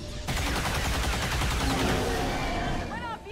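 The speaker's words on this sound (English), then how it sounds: "Then you're gonna shoot him." Gunfire in the tactical game XCOM 2, a sharp shot opening into a dense crackling volley that rolls on for a few seconds and then tapers off.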